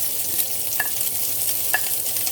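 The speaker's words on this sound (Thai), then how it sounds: "เอาปลาทูที่เฮา ทำเป็นชิ้น ๆ ไว้นะคะ ลงมาผัด" Pieces of mackerel hiss steadily in hot oil in a pan where dried chillies were just fried, for a jackfruit larb with mackerel. Two light scrapes of stirring sound over the even sizzle, close up and with no voices.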